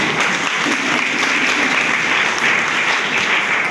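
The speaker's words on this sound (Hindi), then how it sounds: "और एक बार जोरदार तालियां हो जाए आप सभी के लिए।" Loud, dense applause from an audience at a training event on a chief minister's young entrepreneur scheme, a continuous wash of clapping filling the whole moment without pause.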